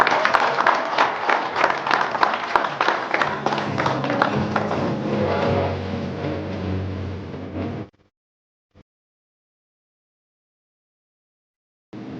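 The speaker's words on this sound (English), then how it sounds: "let's give these awardees thus far a round of applause" Audience applause at an awards ceremony in Zimbabwe, a dense crowd clapping loudly and steadily for about eight seconds, then stopping abruptly into silence.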